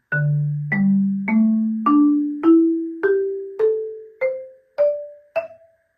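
Ten single marimba notes from an etude are struck one after another at an even pace, each ringing briefly and climbing gradually in pitch.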